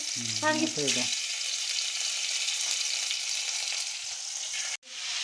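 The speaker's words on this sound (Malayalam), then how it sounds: "ചിക്കൻ ആണെങ്കിൽ ഷാലോ ഫ്രൈ ചെയ്യണം" Chicken shallow frying in a pan for pizza makes a steady, close sizzle that runs the whole way through. A short burst of voice comes near the start, and the sizzle cuts out briefly just before the end.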